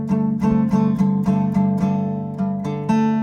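An acoustic guitar in dropped D tuning plays a chord, strummed in repeated rhythmic hits that ring with a deep low drone, close and alone.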